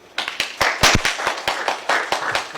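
Audience applauding a departing professor at an academic social policy conference in Korea, a steady patter of hand claps from a moderate crowd, fairly close and even throughout without talk.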